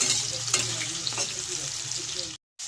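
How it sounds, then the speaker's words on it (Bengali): Potatoes sizzle steadily in hot oil, close and continuous with occasional stirring scrapes, ending in a brief cut of silence. "তেলটা গরম হয়ে গেছে আমি আলুটা ছেড়ে দিলাম"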